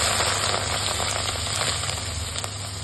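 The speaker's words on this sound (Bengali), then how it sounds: "চিংড়িগুলো ভেজে নেব" Prawns coated in turmeric and salt fry in a wok, giving a dense, continuous close sizzle with faint spattering pops throughout and no voices.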